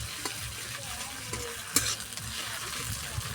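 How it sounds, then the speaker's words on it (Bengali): Ginger-garlic paste sautéing with browned onions in a pan, a soft steady sizzle with occasional spoon scrapes and stirring clatter. "একটু কষিয়ে নেব ভালো করে যাতে কাঁচা গন্ধটা চলে যায় আদা রসুনের।"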